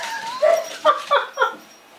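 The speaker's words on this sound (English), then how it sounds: "Oh man, even got the dogs going now." Dogs yip and whimper in a quick run of four high, close barks, loud and alone against a quiet background.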